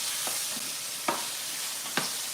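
Zucchini being stirred in a sizzling pan: a steady frying hiss runs throughout, broken by three short scraping stirs spaced about a second apart, close and fairly quiet.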